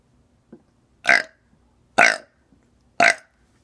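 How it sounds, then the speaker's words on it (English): Three loud, deep burps in a row, each about a second apart, with short quiet gaps and a faint click before the first. "I could also burp on command."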